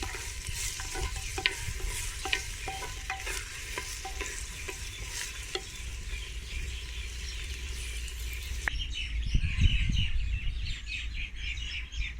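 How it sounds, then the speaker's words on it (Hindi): Finely chopped onions sizzle and crackle in hot oil, with repeated stirring clatter through the first part and a steady frying hiss throughout. Faint bird chirps sound in the background, and no one speaks. "इसको फ्राई करते हैं हल्का ब्राउन।"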